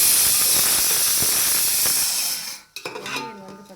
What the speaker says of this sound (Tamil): இப்போ ஆனியன் நல்லா வதங்கிடுச்சு.